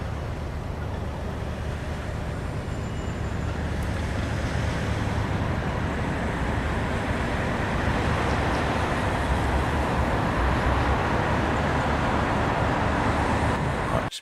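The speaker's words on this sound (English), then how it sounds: "Trouble is the microphone picks up a lot of traffic noise." Steady, loud road traffic roar near a harbour where cruise ships are departing, filling the whole stretch as an unbroken broadband rumble with no talk.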